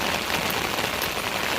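Heavy rain drums densely and continuously on an umbrella overhead outdoors, a close, steady patter with no talking.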